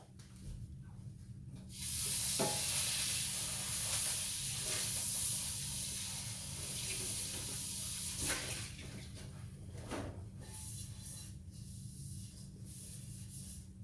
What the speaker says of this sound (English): let me rinse my skillet out